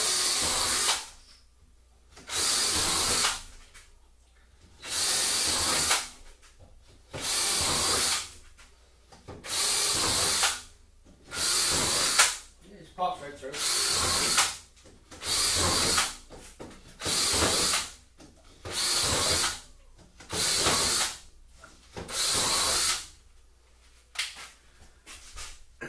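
A power drill boring holes into PVC pipe, a loud close whine repeating in about a dozen short bursts of roughly a second each, separated by brief quiet pauses.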